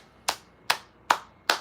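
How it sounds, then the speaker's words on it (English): Four crisp, close hand claps sound alone at an even pace, each sharp and ringing briefly before fading into silence. "clapping."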